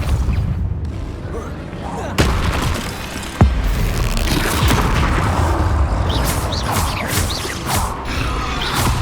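Depulso spell blasts in Hogwarts Legacy combat, sharp whooshing impacts over a dense bed of battle noise, mechanical clanks and rumbling booms, loud and continuous.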